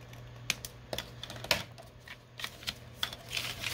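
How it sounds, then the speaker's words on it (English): Scissors snipping the bottom edge of a paper pen holder, a few soft crisp cuts and light paper rustles, quiet and close with no speech. "I'm just going to trim this bottom because it's a little bit off."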